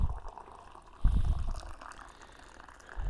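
Two cups of boiling water are poured into a bowl of gelatin, a soft liquid stream and trickle with low bumps of the kettle and bowl, moderately quiet and close.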